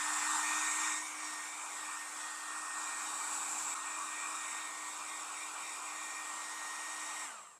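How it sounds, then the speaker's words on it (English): A hair dryer blows steadily to speed-dry a coat of acrylic gesso on a sculpture in a cold workshop, a loud, even whirring hum that drops slightly in pitch after the first second and cuts off at the end. "a hairdryer will really speed this process along"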